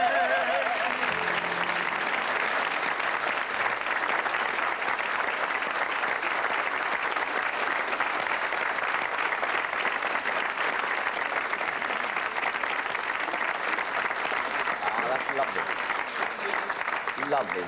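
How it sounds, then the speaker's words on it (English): An audience applauds pianist Frank Duggan at a Late Late Show taping in Cork, with dense, steady clapping that fills the whole stretch at an even loudness and may have voices underneath. "I think Frank Duggan deserves a round of applause."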